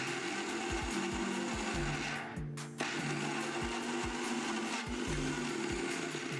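A mixer grinder grinds soaked lentils into masala vada paste in short pulsed bursts, a loud steady whirring drone with a brief stop partway through before it starts again, and no talking.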